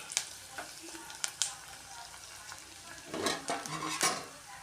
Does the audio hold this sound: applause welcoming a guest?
no